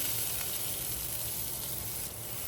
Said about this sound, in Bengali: এখন আমি পালং শাকটা ভেজে নেব দিয়ে দিচ্ছে তেল